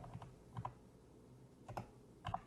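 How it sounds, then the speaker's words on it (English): Faint, soft keyboard taps come in small clusters with short pauses as a class time is typed into a calendar on a computer. "I personally like to type it out."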